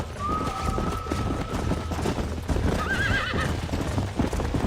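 Horses gallop and neigh in the video game Red Dead Redemption, rapid clip-clop hoofbeats running throughout with a long whinny early on and another wavering neigh later.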